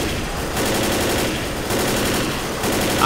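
Rapid automatic gunfire in the zombie shooter Left 4 Dead, loud continuous bursts of closely spaced shots with short pauses between strings, no talking.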